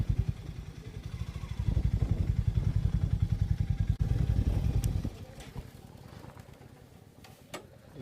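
Several motorcycles idle and rev close by at a sunrise viewpoint, a loud rhythmic engine chugging that drops away halfway through, leaving quieter background with faint clatter.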